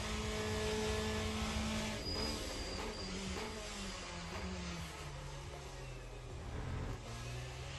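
Race car engine droning steadily in the Le Mans Ultimate sim, with tyre noise and a brief loss of traction, loud and continuous with no talk.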